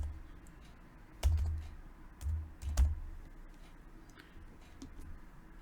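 A handful of sparse keystrokes on a computer keyboard while R code is typed, faint clicks spaced irregularly over quiet room tone.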